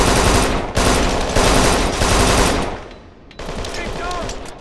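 Machine gun fire roars in the Kane & Lynch 2 video game: dense, loud bursts of rapid automatic shots that keep going with brief gaps, ending in quieter gunfire and echoes.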